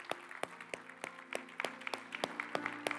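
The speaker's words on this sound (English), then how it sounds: "Let's give the Lord a round of applause." Applause from a church congregation, sparse and rhythmic with distinct individual claps in a steady beat, fairly faint and with no talking.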